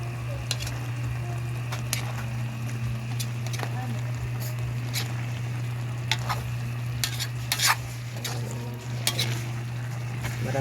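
Coconut milk (gata) cooking with moringa and string bean vegetables in a pan, a steady low simmer and sizzle broken by repeated scraping and clinking stirs throughout, close and moderately loud.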